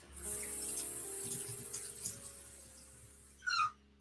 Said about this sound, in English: So let me just rinse them off.